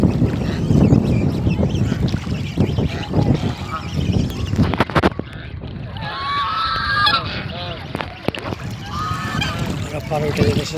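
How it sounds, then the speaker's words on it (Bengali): A flock of geese honks repeatedly on the Padma riverbank, the calls clustering near and loud in the second half over steady wind and low background rumble. "রাজহাঁসের একটা ঝাঁক দেখতে পাচ্ছেন"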